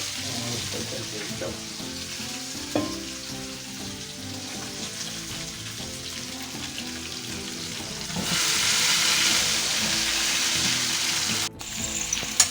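Potatoes and peas frying in hot oil in a pan for a Bengali cabbage curry with rohu fish head, a steady close sizzle that swells louder partway through, with occasional scrapes and clinks of a utensil.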